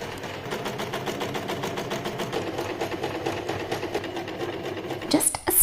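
Sewing machine stitching fabric pieces together for a table runner, a steady fast mechanical chatter running close and even for several seconds before a short clatter at the end.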